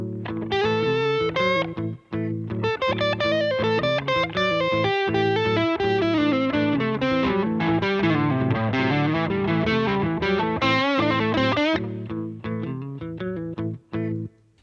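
An electric guitar plays a continuous blues line through distortion and effects, drifting in and out of time before settling back into a steadier rhythm. Dense, sustained notes carry on for most of the stretch, then thin into a few sparse picks.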